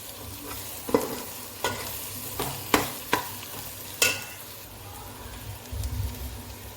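Washed fish pieces being added to a simmering spicy curry and stirred, with several distinct scraping and clattering strokes against the pan over a soft background sizzle.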